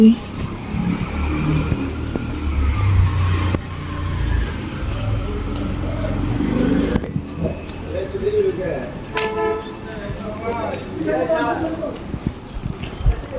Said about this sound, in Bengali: ওই যে গাড়ি,